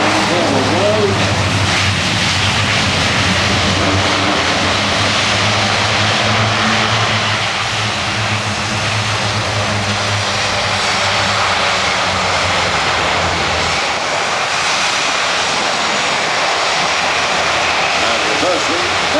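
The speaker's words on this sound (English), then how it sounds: "A400M just touching down with the head reverse." Airbus A400M Atlas turboprop touching down on a runway with reverse thrust, a loud continuous propeller roar that stays strong throughout, with someone talking over it.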